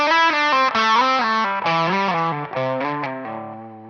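Electric guitar with distortion and effects runs a descending minor pentatonic lick with slides and pull-offs, notes stepping down steadily over a few seconds before a final held low note, loud and alone.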